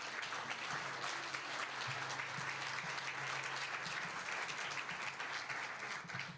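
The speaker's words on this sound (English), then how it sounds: "Let's give them a round of applause." A seated audience at a town's annual State of the Town event in Danville claps in sustained, steady applause for town staff, a dense wash of many hands lasting several seconds.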